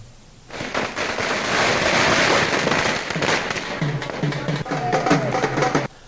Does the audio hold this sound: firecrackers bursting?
yes